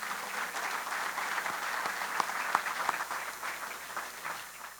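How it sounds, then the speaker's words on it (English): An audience at an awards luncheon applauds, a steady, moderately loud wash of many hands clapping that swells slightly and fades toward the end, with no talk over it. "Ladies and gentlemen, a round of applause"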